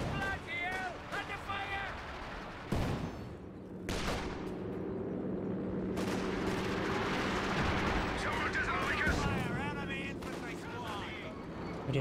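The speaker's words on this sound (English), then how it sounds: "Volkswagen is now taking shots against them." Gunfire from a Volkswagen unit in the strategy game Company of Heroes 2, with repeated sharp bursts over a dense battle rumble while a voice talks throughout.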